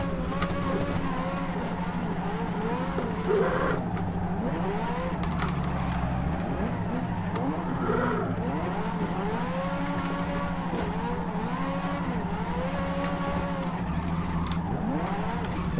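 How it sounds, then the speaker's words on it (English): A car drifting on the Ebisu West track in the racing game Assetto Corsa: the engine revs rise and fall repeatedly through long slides, with tyre squeal and a steady low drone throughout. "apologise for my drifting"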